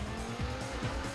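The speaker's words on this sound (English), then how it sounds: "you touch that grass any little bit at all, you're gonna skid out like crazy" Tires skidding and squealing as a race car slides onto grass in Daytona USA on the Sega Saturn, a short screeching slide layered over a continuous engine drone.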